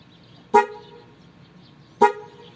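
Two short, loud honks from an e-bike's dual horn, sounded on its low tone, each a brief sharp blast about a second and a half apart over a quiet background.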